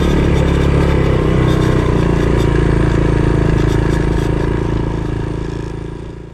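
A ratty Honda ATC 200X three-wheeler runs off-road, its engine droning loud and close at a steady pitch before easing off slightly at the end, with no talking.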